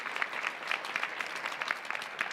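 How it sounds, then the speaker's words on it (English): Applause from an evening gathering for central office staff and assistant superintendents, a steady patter of many hands clapping at moderate volume throughout, no voices over it. "Give them a round of applause"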